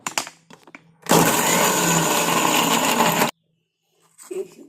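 A kitchen mixer grinder dry-grinds black cumin with no water for a natural hair dye, giving one loud, close, steady whirring burst of about two seconds that stops abruptly.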